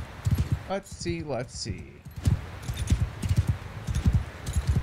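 Horse hooves clip-clopping at a steady trot while riding through terrain in Mount and Blade 2 with a Warhammer Old Realms mod, rhythmic thuds running throughout beneath a man's brief spoken remark.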